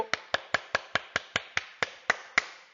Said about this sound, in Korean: 우리 모두에게 다 같이 스스로 박수